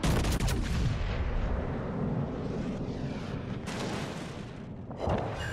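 Main guns of the battleship Minnesota fire in the naval combat game World of Warships Legends, opening with a loud booming salvo and followed by a long rumbling roar with further muffled blasts.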